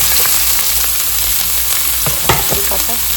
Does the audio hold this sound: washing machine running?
no